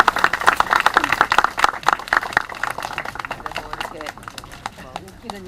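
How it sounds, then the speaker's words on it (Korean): Students at a university student-council gathering clap together, dense quick claps bursting loudly at first and thinning out over several seconds, with voices mixed in. "박수 치면서 고맙습니다."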